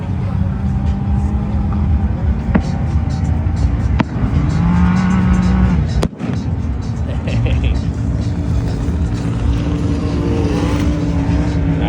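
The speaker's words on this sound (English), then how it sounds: "These trucks, man." Off-road trucks, including a Ford F-150 and a Chevy, race across the Glamis sand dunes, their engines roaring loud and steady throughout, with a sharp clunk partway through and people talking over the noise.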